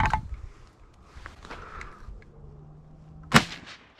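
A single sharp shotgun blast from a mini shotgun fired at ducks during a hunt outdoors, one loud crack near the end after quieter ambient noise.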